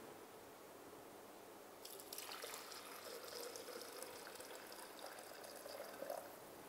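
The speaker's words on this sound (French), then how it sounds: "On reprend notre petit blender, on va y verser le bouillon." Vegetable broth pours into a small blender, a faint, steady liquid trickle and splash that starts after about two seconds of quiet and keeps running to the end, heard alone.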